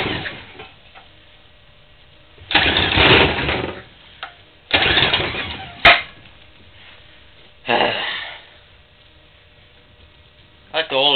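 An old small engine is cranked by pull cord several times, short loud bursts of cranking and sputter with quiet pauses between and a sharp click, with a voice speaking briefly.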